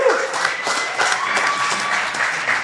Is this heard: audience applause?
yes